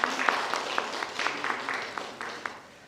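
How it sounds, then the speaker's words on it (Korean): An audience claps at a youth smoking-prevention policy research club presentation event, steady close applause that slowly tapers off, with no voices over it. "큰 박수 부탁드립니다"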